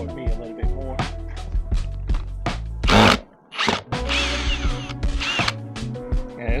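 Power drill driving rusty screws to reposition a deck gate latch, several loud whirring bursts with pauses between, close up, with brief talking in between.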